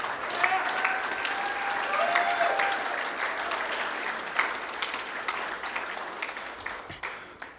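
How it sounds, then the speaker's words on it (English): A banquet crowd at a charity fundraiser applauds two honorees, a sustained round of many hands clapping at moderate level, with a few brief tonal notes early on and the clapping thinning toward the end. "Let's have another big round of applause for Ken and Cal"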